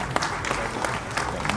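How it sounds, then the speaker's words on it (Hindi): A hall full of people bursts into applause after the Aditya L1 solar mission launch, a loud, continuous wash of clapping with cheering voices mixed in. "पूरा हॉल तालियों की गड़गड़ाहट से गूंज"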